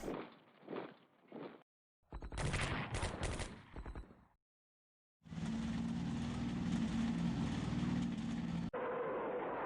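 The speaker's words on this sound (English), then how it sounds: "And here the artillery starts to pound." Artillery bombardment in a World War II strategy video game, with bursts of booming and crackling gunfire-like blasts separated by brief gaps, then a long, sustained, loud roar of barrage.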